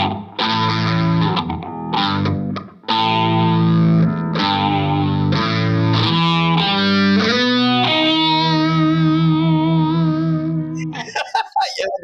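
Fender Coronado II guitar through a phaser with octave effect and a trashy PV amp, playing a distorted, swirling melodic line that climbs, loud and up close, with brief voices near the end.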